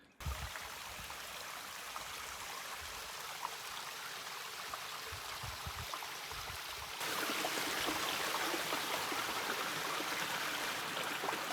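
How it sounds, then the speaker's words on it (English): A creek along the Ouachita Trail flows steadily in a continuous, full rush of water, close and loud, growing slightly brighter and stronger partway through, with no voices. "Taking a little break here at this creek."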